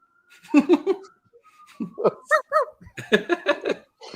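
A dog barking in a quick run of sharp barks, fairly close and loud, with a couple of brief pauses between the bursts; no speech alongside.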